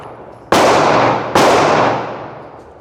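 A Taurus TX22 .22 pistol firing bronze ammunition fires two sharp, loud shots less than a second apart, each ringing out and decaying slowly, with near silence before the first.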